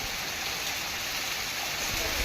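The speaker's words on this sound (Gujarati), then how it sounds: "તો અટાણે વરસાદ એવો છે" Heavy rain pours steadily with strong wind in Porbandar, a dense, continuous roaring hiss with no breaks.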